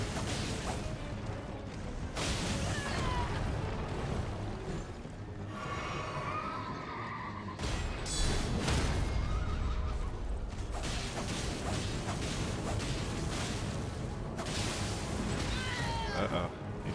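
A horse neighs in a video game, its whinny rising over a busy mix of clip-clopping hooves, clattering mechanisms and game effects, with people talking throughout.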